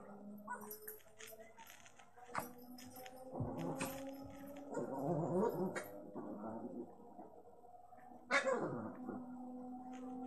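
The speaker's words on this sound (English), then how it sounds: "Sorry about that noise. Annie and Bubbles like to play" Dogs playing nearby, with whimpers, yips and scuffling bursts over a steady low hum, the loudest rough-and-tumble in the middle and a sharp thump near the end.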